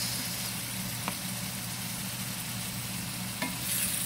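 Chicken pastel frying in a pan with soy sauce being added, a constant sizzle with a low steady hum beneath and a couple of faint clinks of the spoon as it is stirred.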